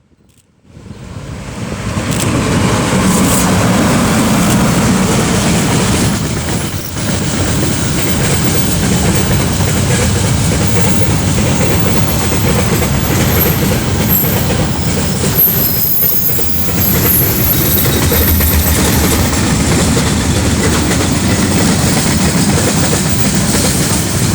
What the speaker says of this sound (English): I caught EF 3192, which is my personal favourite electric locomotive, passing Hamilton Station as the third engine on train 228